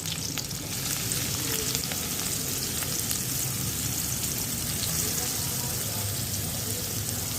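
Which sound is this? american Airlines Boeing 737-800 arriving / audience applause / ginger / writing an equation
ginger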